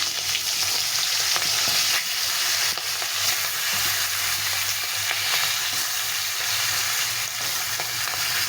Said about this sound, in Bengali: তেলটা গরম হয়ে গেছে, এখন মাছগুলো ভেজে নেব।